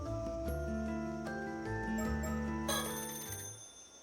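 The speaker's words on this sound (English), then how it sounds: "Oh, it's just the phone. That scared me. The phone's ringing." A telephone rings in the horror video game Paranormasight, a melodic electronic ringtone of repeating tones that swells and then cuts off, heard alone and fairly faint.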